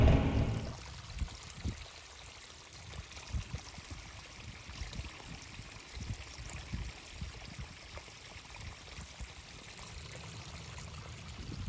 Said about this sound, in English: All right, we got the water going on the corn.